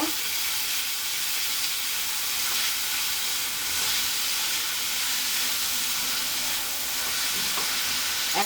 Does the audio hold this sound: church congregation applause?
no